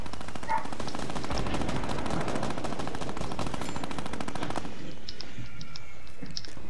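Rapid automatic gunfire in the video game Fortnite rattles in a dense, loud burst for several seconds, then cuts off, leaving faint scattered game sounds.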